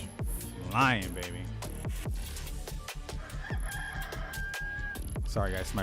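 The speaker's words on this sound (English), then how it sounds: "my rooster" A rooster crows loudly once near the start, its call rising and falling, and then begins another crow at the end, with someone talking steadily throughout.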